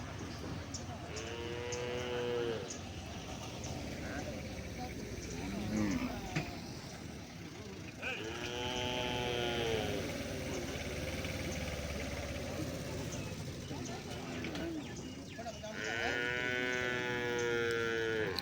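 Native cattle at the Palayakottai cattle market moo in long, drawn-out calls three times, fairly close, with someone talking and background crowd and engine noise between the calls.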